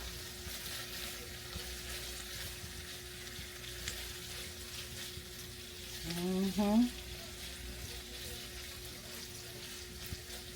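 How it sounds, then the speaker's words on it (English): Sausage frying in a pan gives a steady, close sizzle and crackle that runs throughout, with a brief voice murmur partway through over the constant frying hiss. "So, the sausage is cooking."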